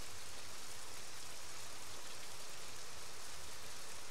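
Steady, dense rain falls in the video game Heavy Rain, a continuous even hiss with no breaks and no voices.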